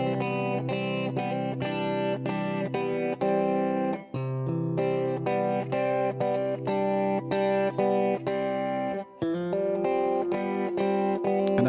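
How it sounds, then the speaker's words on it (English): A G&L electric guitar plays a clean picked part through a delay effect. Bright, ringing repeated notes fall in a steady rhythm, with short breaks, and no one speaks. "Anyway, those guitars sound like this."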